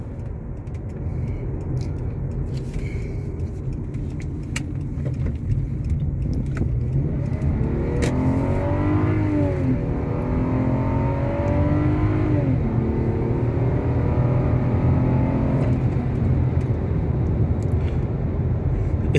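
A Lexus GS engine pulls smoothly under acceleration on a road test drive, a steady cabin drone that climbs in pitch through the gears with a brief dip mid-run, no lag, heard alone and close.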